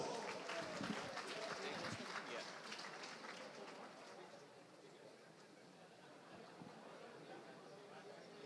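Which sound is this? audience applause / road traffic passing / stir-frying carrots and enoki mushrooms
audience applause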